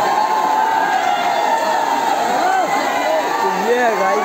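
Big crowd of tourists gathered at Kakolat waterfall, a loud continuous roar of many voices with cheers and children's shouts rising out of the babble, close and unbroken from start to finish.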